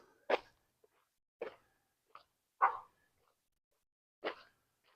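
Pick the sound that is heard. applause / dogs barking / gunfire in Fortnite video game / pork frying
dogs barking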